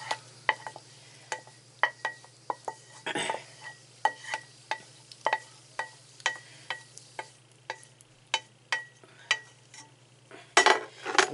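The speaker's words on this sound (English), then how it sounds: "Get all of this mixed up with these potatoes." Utensil scraping and tapping against a dish while au gratin potato mix is stirred into potatoes, a steady run of short clinks and scrapes over a low constant hum, close and fairly quiet.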